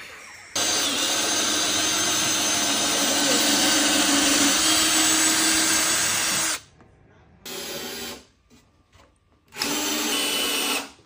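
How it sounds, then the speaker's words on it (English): A power drill drilling pilot holes into wood whines loudly and steadily for several seconds, cuts off, then returns in two shorter bursts with brief quiet gaps between. "Screws go in a lot easier if you drill holes in first."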